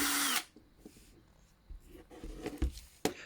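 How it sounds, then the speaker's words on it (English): A power drill with a worn bit bores into the die-cast body of a Matchbox K-21 Mercury Cougar, giving short, uneven bursts of close whirring and grinding separated by quieter pauses, with no talking. "this particular drill bit is starting to wear out, so it takes quite a while to simply drill down all of"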